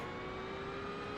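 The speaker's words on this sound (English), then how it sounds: "Mustang's inconveniently loud." A loud Ford Mustang engine drones at a high, steady pitch in a racing video game during an endurance race at Mobility Resort Motegi, one sustained tone with no break.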